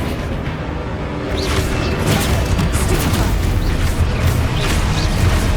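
Spell explosions in the video game Hogwarts Legacy, heard as dense, loud booms and whooshing bursts layered over a continuous rumbling game soundscape.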